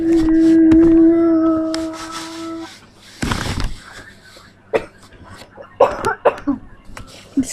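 A person coughs in a sharp burst, then a few smaller throat noises follow, close by, after a sustained tonal hum from equipment in a basement room.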